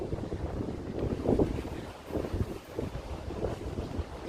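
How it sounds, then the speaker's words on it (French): Gusty wind buffeting the microphone, a continuous low rumble rising and falling in strength, with no voices over it. "Vent."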